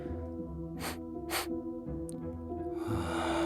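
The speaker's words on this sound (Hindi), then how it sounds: "उसने बर्तन उठाकर सूंघा।" Sniffing sound effect for a story as someone smells a pot of strange green water: two sharp nasal sniffs close up, then a longer breathy exhale over a low musical background.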